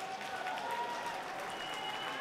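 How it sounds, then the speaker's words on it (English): Crowd applause at a fighting championship event, a steady, continuous wash of clapping from a large audience in an arena, moderately loud with a faint tonal hum underneath. "can we please have a big round of applause for both of our fighters?"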